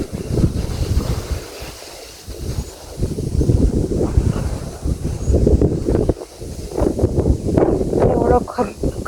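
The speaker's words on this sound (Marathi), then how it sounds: "खूप हवा सुटायला." Strong wind blows across an open outdoor plot, producing loud, gusting buffeting noise against the microphone in surging waves, with people talking underneath at times.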